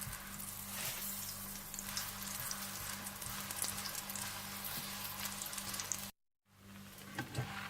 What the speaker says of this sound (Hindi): दूसरी तरफ देसी घी डाल लीजिए और इसे फिर से पलट कर पका लीजिए।